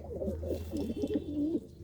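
Pigeons coo repeatedly in a home loft where a hen sits on eggs, their low throaty rolling calls running close and steady over a constant low hum, with no talking.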